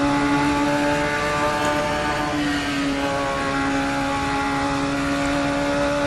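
A Radical SR3 XXR race car engine in the Assetto Corsa racing game holds a loud, steady high-revving drone with a buzzy, harmonic tone, with no voices heard.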